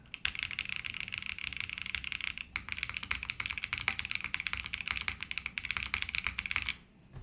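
Rapid, steady clacking from typing on a KBDFan KBD8X mechanical keyboard fitted with keycaps, close and crisp, in an even stream of keystrokes that stops abruptly near the end.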